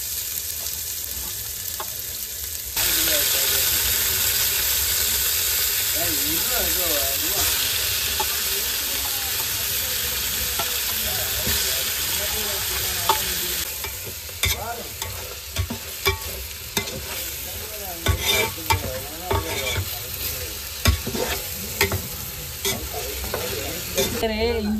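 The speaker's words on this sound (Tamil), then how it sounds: "சிக்கன் போட போறேன்." Chicken sizzles loudly in a hot pan in a broad, continuous hiss. Later come repeated scraping stirs and sharp clinks of a utensil against the pan, close and prominent.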